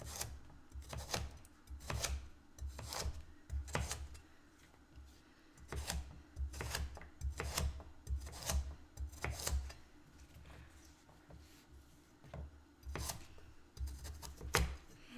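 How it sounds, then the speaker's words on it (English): Knife roughly chopping carrots on a board for chicken soup stock, a steady run of close, sharp thuds in uneven bursts with short pauses between them. "I'm roughly chopping these carrots"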